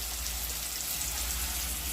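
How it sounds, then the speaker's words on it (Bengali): Vegetables for a flattened-rice pulao fry in a pan, giving a steady, even hiss of sizzling oil with no breaks and no talking. "এখানে চিড়ের পোলাওর জন্য সবজি ভাজছি"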